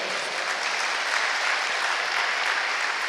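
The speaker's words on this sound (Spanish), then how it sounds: "dale un aplauso al Señor" A church congregation applauds steadily and evenly, a dense wash of clapping that holds at the same moderate loudness for about three seconds, with no voices over it.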